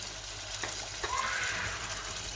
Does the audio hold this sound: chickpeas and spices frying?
yes